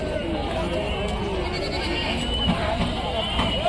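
Goats and sheep bleat at a rural livestock market, with several calls rising over a constant murmur of crowd chatter and nearby voices.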